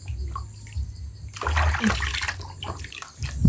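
Food is rinsed and washed in water, with sloshing and splashing close by, quiet at first and then swelling into a burst of running, splattering water.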